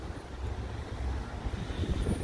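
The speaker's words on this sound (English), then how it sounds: "Now as you can hear the trains going by." Low rumbling of a passing train with rhythmic clatter, steady and moderately distant, no voices.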